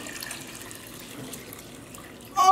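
Water pours steadily into a pot for cold-process yarn dyeing, a soft continuous trickling stream heard close, ending in a brief louder splash.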